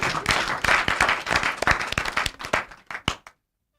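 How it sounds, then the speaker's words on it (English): Audience clapping together at a Brekete Family radio program in Nigeria, a dense burst of applause that thins into a few scattered final claps before stopping abruptly. "make una clap for ourselves."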